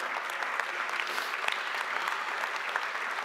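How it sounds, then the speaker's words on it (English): A congregation claps for the Lord during a church sermon, a steady, dense wash of many hands applauding together that fills the space at moderate loudness, with no voices over it. "give the Lord a good hand clap today"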